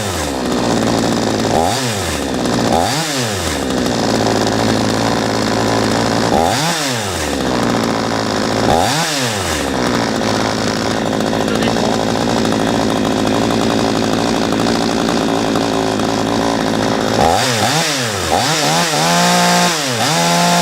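A P1PE P6220C chainsaw with its carburettor being adjusted runs continuously at a loud, close idle, its pitch dipping and surging in several sharp throttle bursts.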